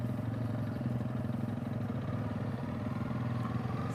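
A Yamaha TW200 dual sport motorcycle rides across grass with a steady, close mid-pitched engine drone and some light clatter, holding an even level throughout.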